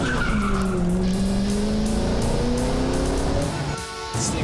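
Panoz Esperante sports car on a test drive, its engine loud and steady with rising and falling revs, while tires squeal and skid throughout.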